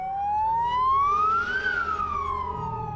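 An ambulance siren wails close by in one long tone that rises and then falls, loud and steady, with no voices.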